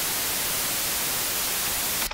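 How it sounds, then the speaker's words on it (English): Steady white noise from a Pure Data noise~ oscillator, a dense broadband hiss that stays even and loud throughout before cutting off abruptly at the very end. "And the last one that I want to show you is Noise Tilde,"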